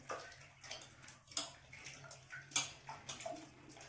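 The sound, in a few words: pouring tamarind water for pani puri rasam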